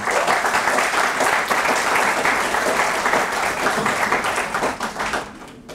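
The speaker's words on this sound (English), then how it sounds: "A round of applause for all the women in this room." Audience applause at a lecture, many hands clapping densely and steadily for several seconds, loud and close, tapering slightly at the end.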